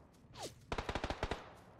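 About eight rapid automatic gunshots crack in an even rhythm in PUBG, moderately near, preceded by a brief whooshing sound.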